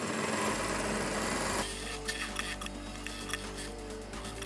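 A sewing machine stitches a pocket on a Punjabi dress. A brief rustle of handling cloth gives way to a steady mechanical whir with fine rapid ticking, close and moderately loud.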